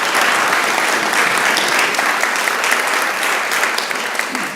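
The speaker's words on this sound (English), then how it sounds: "give yourself a round of applause" A conference audience at a morning summit on Atlanta's Westside breaks into sustained, dense applause that holds steady and loud throughout, with no voices rising above it.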